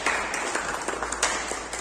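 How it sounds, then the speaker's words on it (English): Applause from an audience at a Toastmasters club meeting, a dense, steady patter of many hands clapping throughout, fairly close and continuous with no pause. "Huge round of applause."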